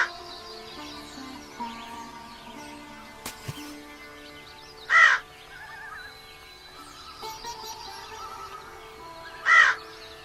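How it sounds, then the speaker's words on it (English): A crow caws twice, about four seconds apart, each call loud and near against a quiet outdoor background. "The crow was very clever."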